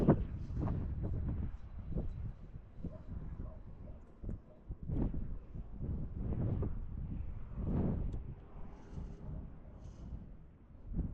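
Strong, gusty wind buffets the microphone of a flying DJI Mini 4 Pro drone, a continuous low rumbling roar with bursts and dips throughout, no voices.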